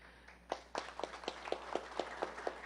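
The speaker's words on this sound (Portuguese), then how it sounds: "Salve de palmas." Faint rhythmic clapping from an audience at a debate in Cuiabá, around ten evenly paced claps in a quiet room, thin and distant with a steady hiss beneath.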